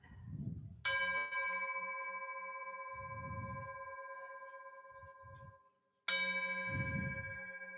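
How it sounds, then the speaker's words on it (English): A meditation bell is struck twice, each ring a clear, sustained metallic tone that lingers several seconds before fading, with soft low thuds in between. "My heart goes out with the sound of the bell."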